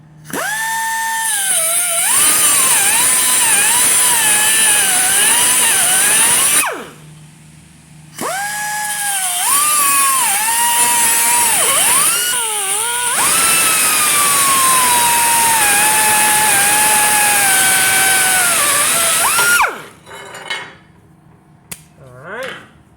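Power tool loudly cutting through a damaged car's control arms, a steady high-pitched whine in two long runs with a short pause between, winding down and ending in scattered clanks.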